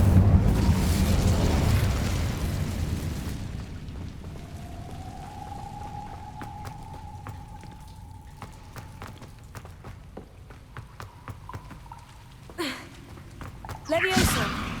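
Fire spell Incendio cast in the Hogwarts Legacy video game, a burst of crackling magical flame rising over a low rumbling game soundscape, with a rising tonal whoosh midway and further sharp bursts near the end.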